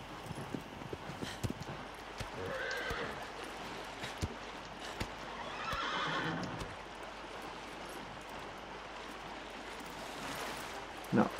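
A horse in Shadow of the Colossus Remake on PS4 Pro gives two moderate whinnies a few seconds apart, with soft hoof clops and faint running water in the background.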